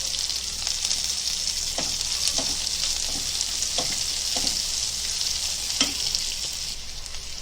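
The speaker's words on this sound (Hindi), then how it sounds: "अभी लहसुन डालेंगे" Garlic sizzles steadily in hot oil for a turai (ridge gourd) curry, a continuous close frying hiss with occasional light stirring clinks and no voices.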